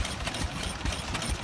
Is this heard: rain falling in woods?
no